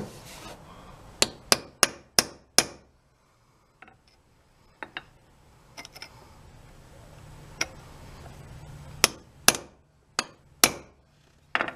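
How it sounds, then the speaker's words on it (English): A hammer strikes a chisel to drive a small wedge into a loose hammer head: sharp metallic blows close by, a rapid cluster at first, then scattered single hits and another quick run, with no voices. "We'll use a chisel to set it."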